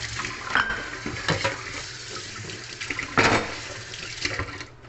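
Running water splashes in a kitchen sink as chopped carrots are rinsed during preparation of a chicken soup with coriander, with a steady flow and louder splashing bursts, alone and close.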